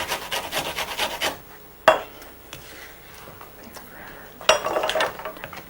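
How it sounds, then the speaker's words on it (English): Sugar being stirred into flour in a mixing bowl, a dry scraping and rubbing of a utensil against the bowl with a couple of sharp clinks, close and fairly loud. "So we just dump the cup of sugar into the flour and stir."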